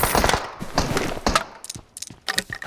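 Gunfire in PUBG Mobile, with a series of sharp, irregular shots and short bursts over a few seconds, some loud and close, others fainter.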